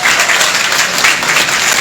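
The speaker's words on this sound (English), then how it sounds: "let's give Gracie a big round of applause for being here" Brief burst of audience applause at a mayor's town hall on housing, loud close clapping filling the whole moment with no speech over it.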